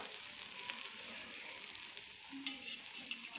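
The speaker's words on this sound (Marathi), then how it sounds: "हे बघा, आता साईडने सुद्धा आपण थोडं तूप टाकूया" Ghee sizzles around a banana pancake frying in a pan over low to medium flame, a steady quiet hiss with a few faint crackles and pops near the end.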